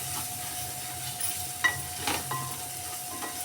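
Two spoons of ginger garlic paste frying and being stirred in a pan, a steady soft sizzle broken by a few scrapes of the spoon, close up and with no voices.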